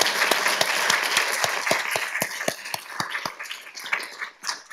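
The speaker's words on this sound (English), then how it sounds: "let's give all these people a round of applause" An audience at a National Teacher Appreciation Day event at UCI claps in a dense, steady round of applause that gradually thins out toward the end.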